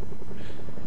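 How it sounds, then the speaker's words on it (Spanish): Loud, close helicopter in the video game Fortnite, a heavy rotor thumping and engine roar filling the whole moment without pause. "Aparece un helicóptero."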